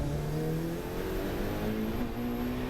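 A Ferrari race car's engine accelerates hard on a track, a loud continuous revving drone with rising harmonic pitches that climb through gear changes, heard up close from inside the car with no talk.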